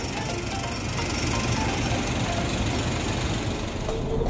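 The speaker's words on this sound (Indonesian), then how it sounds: "Ternyata memakai mesin Mercedes-Benz." The Mercedes-Benz diesel engine of an Asli Prima air-conditioned intercity bus on the Bandung–Merak route rumbles and knocks steadily, heard close and continuous with no voices.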